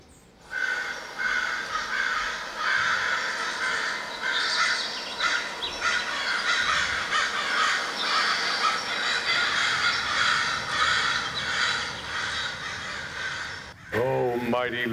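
Many crows caw loudly and continuously in a dense, overlapping chorus, close and busy throughout, ending abruptly with a brief different voice-like sound.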